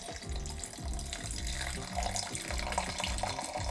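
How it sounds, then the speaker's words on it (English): A cocktail pours into a glass packed with crushed ice, a close, continuous splashing and trickling stream with faint crackle from the ice. "pour the whole cocktail inside"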